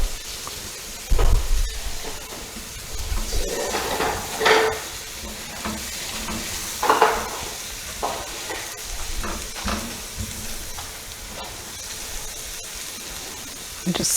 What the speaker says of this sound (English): Just sauteing them all up